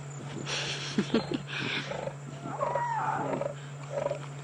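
Lions in the South African bush roaring and snarling as they clash, deep rough growls and sharp snarls bursting out close and loud in uneven, overlapping outbursts against a steady background hum.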